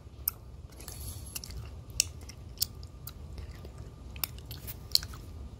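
Close, wet chewing of gummy candy shaped like a green pepper, tough and slow to chew, with soft mouth sounds and a few sharp clicks over a low background hum.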